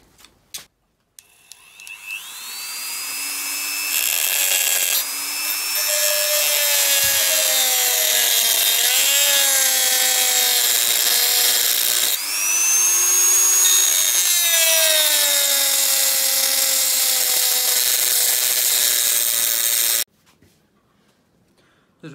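A Dremel rotary tool grinding a piece out of a metal lock, a loud high whine that shifts in pitch as it bites, running steadily for about seventeen seconds before stopping.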